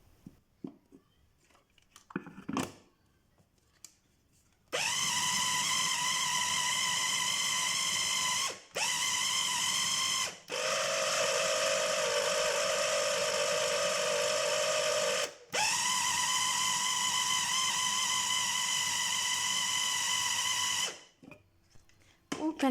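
A food grinder grinds chicken with dill in a kitchen, its motor whirring loud and steady in three long runs separated by brief stops.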